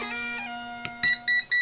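A Venlab digital multimeter's continuity tester beeps three times in quick succession, short bright electronic tones spaced evenly and heard up close, following a few faint clicks and softer tones.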